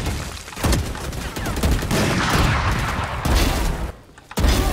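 Rapid gunfire in the tactical shooter Valorant, a dense, loud stretch of shots with a short pause near the end before firing resumes.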